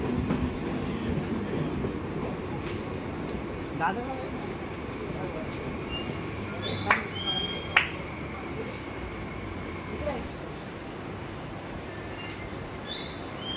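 A Mumbai Western line local train arrives at a quiet early-morning station, a continuous mid-distance rumble with rail clatter and a couple of brief metallic squeals, and a voice speaks over it.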